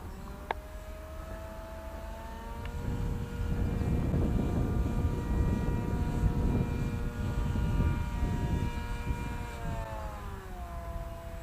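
Drone flying back in return-to-home mode in somewhat challenging conditions aloft, giving a steady droning motor whine with shifting tones as the throttle adjusts, fairly distant and continuous with no talk.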